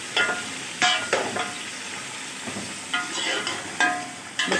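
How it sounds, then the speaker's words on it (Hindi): Chicken frying in hot oil with onions for a chicken pulao: a steady close sizzle with repeated scraping stirs and spatter bursts, no voices. "चिकन को हमें तब तक फ्राई करना है इसमें जब तक कि इसका कलर चेंज नहीं हो जाए"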